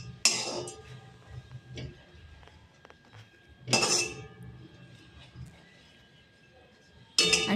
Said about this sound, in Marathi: 1 कप साबुदाणा, तो चांगला फुलेपर्यंत भाजायचा आहे.